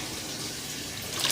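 Water pours steadily over anion and cation filter media to rinse them, a continuous rushing splash that swells slightly toward the end.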